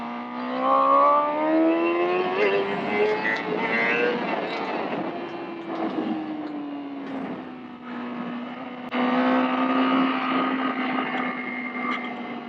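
A 2020 Honda CBR1000RR-R SP Fireblade sportbike being ridden, its engine note a steady, continuous drone that rises and falls with throttle changes, loud and close throughout with no voices.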